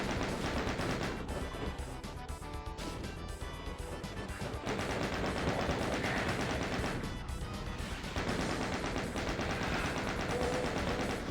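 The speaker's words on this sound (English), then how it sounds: "Why'd I just take like 5 seconds of chain gunner fire?" Sustained chaingunner gunfire from the video game DOOM: Legacy of Rust, a dense, continuous burst of rapid shots that keeps loud and steady for several seconds with short dips, with no voices over it.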